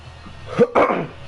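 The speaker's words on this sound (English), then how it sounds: "just needed to cough" A single cough from a man, close and fairly loud: a short two-part burst in the middle of an otherwise quiet moment.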